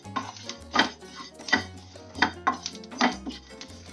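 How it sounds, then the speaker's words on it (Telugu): Sesame seeds dry-roasting in a pan crackle and pop in quick irregular bursts, mixed with sharp clinks and scrapes of a utensil stirring them, close up with no voices. "మన నువ్వులు మంచిగా ఫ్రై అవుతున్నాయి చూసారా చిటపట చిటపట సౌండ్ వస్తున్నాయి"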